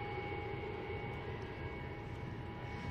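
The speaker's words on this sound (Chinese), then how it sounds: "第六架的运输机已经降落，第五架是正在驶向它需要停放的地点" A Y-20 military transport aircraft taxis after landing at Wuhan Tianhe Airport, its engines giving a steady, faint, distant droning hum with a whining tone that holds evenly throughout.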